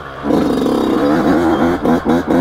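A 2020 Yamaha YZ125X two-stroke dirt bike revs hard in second gear, a loud, close, buzzing engine note that climbs and dips with quick throttle blips near the end.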